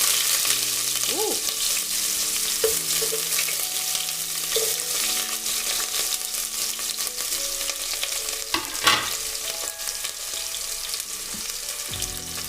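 Onions sizzle and crackle steadily in a hot pan as they are stirred, with a few clinks and scrapes of the spoon, close and continuous, while pilau with beans and rice is cooked in a village kitchen.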